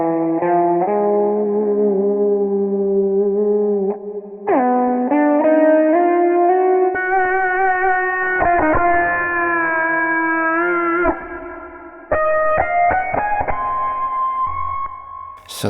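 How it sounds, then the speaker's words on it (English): Electric guitar played through an amp-style tone with only mild distortion, sustained notes and chords ringing continuously with echo and reverb effects, loud and close with no talking. "It's a sort of electric guitar sound with like an amp sound, but not a huge amount of distortion."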